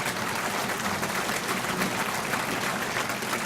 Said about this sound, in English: would you please give one more round of applause to our first 5 inductees and our first 2 teams